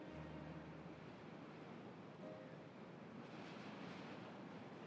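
Water rushing through a newly opened causeway in the beaver colony game Timberborn, a steady broadband wash like surf, fairly faint and continuous with no speech.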